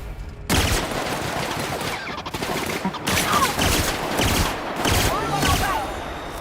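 Video game gunfire rattles out in loud, dense, rapid bursts of overlapping shots, almost continuous, broken only by brief gaps.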